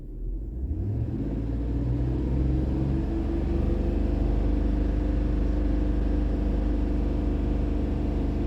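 A car engine with a suspected dirty mass air flow sensor revs up, its rumble climbing in pitch over the first few seconds and then holding a loud, steady high drone, close and without talk.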